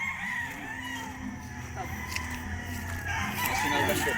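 Young roosters, White Kelso cross stags, crow repeatedly at close range on a farm, their calls overlapping against steady background noise with occasional voices.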